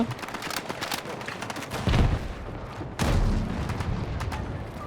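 A loud explosion booms in Battlefield 6 amid continuous gunfire and battle noise, with a second heavy blast following a second later.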